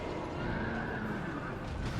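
A horse neighs in the video game Dark Souls 2, a whinny under steady game noise, with a voice talking over it throughout.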